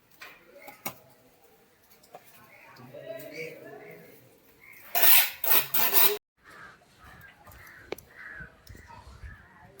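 Plaster being punched and rasped onto a wall during village plastering work, a burst of loud scraping and slapping strokes in the middle amid quieter scrapes, with people talking throughout.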